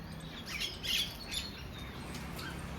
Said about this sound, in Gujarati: આવી ગયા છે કાકડા ને કાબરો